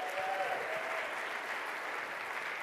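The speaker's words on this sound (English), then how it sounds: "Let's give the C's a round of applause." Applause from a conference audience at a nonprofit storytelling event, a steady wash of clapping hands that holds for the whole stretch at moderate loudness with no talk over it.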